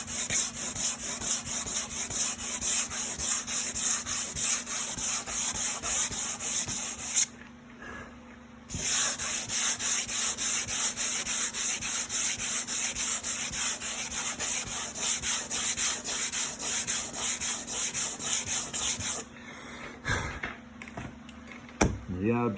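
Steady, continuous rasping of sandpaper rubbing a motorcycle trailer surface, close up, with a couple of brief pauses.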